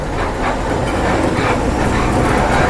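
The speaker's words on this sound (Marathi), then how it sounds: "ही ट्रेन फक्त जिंदलमध्ये जाते फक्त" A freight train running on a track that serves the Jindal plant near the Karnataka–Maharashtra border, a loud continuous rumble with rhythmic clatter of wagons passing close by, no voices.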